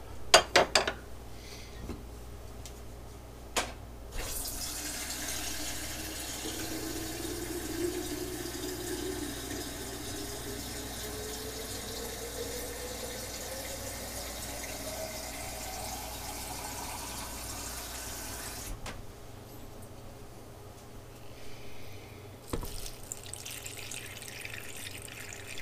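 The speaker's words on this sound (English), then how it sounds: "Add some more water to it." Water runs steadily from a kitchen tap into a pot of collard greens, a continuous close rushing stream whose pitch rises as the pot fills, preceded and followed by a few small knocks and clatters.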